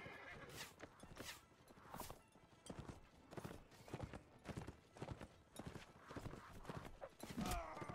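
A horse gallops in the Mount and Blade Warband combat game: a quick, uneven run of hoofbeats, close and busy, with a whinny near the end and no clear talking.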